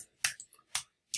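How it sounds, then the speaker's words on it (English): A few separate key clicks from typing an address on a computer keyboard, spaced irregularly over about a second, close and fairly quiet with no talking. "Let's type in my office address here."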